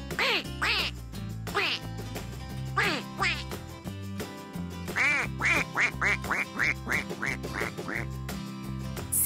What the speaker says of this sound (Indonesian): Lebih baik memberi makan bebek seperti ini di kamar mandi daripada tidak ada kegiatan.